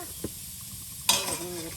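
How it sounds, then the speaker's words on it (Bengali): Spice paste hits a pot over a clay stove outdoors by a wetland, a sudden loud sizzle after a light knock, then settling into steady frying. "পেস্ট দিয়া দিলাম, পেস্টটি ভাজা কষায়া"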